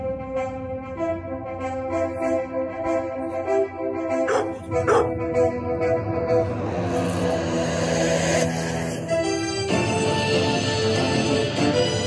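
A dog barks and yips among layered music, a few short barks early and midway, fairly close but partly buried under a steady musical bed, with no talking.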